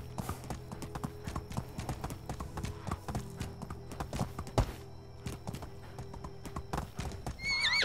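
Horse hooves clip-clopping in the Medieval Dynasty video game, a fast steady run of sharp close hoof strikes with a whinny partway through and game ambience, no talk.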